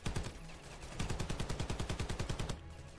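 Rapid machine gun bursts in the shooter game Ravenfield, loud and close, a steady rhythmic stream of shots after a brief opening burst, cutting off abruptly near the end.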